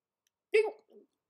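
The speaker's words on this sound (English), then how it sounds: "Well, it was a hiccup." A single short hiccup, a sharp voiced catch followed by a fainter trailing breath, close to the microphone against near silence.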